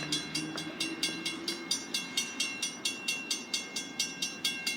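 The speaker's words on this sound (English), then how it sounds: "See, we got a train down there." A train rolls along the tracks far below, its wheels clicking in a steady, evenly spaced rhythm of sharp beats over a soft rumble, heard from a distance with no talk.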